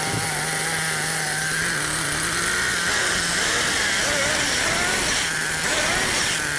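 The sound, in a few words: small engine running during carburettor adjustment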